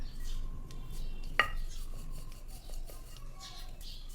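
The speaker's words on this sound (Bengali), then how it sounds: "দেখো প্রত্যেকটা এবার আমি এভাবে বেলে নেবো" A rolling pin works thin panipuri dough on a board at home, making soft rubbing, rolling scrapes with one sharp knock, fairly quiet and close.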